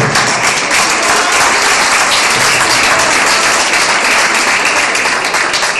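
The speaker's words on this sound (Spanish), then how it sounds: "Un aplauso al sonidista que se está bancando todo" A concert crowd at a show breaks into loud, dense applause, a continuous roar of clapping up close that holds steady throughout.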